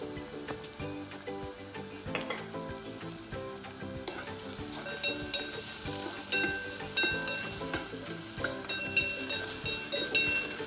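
Spices sizzle and crackle steadily in hot oil in a pan for a homemade chicken curry, with occasional stirring clicks and no talking.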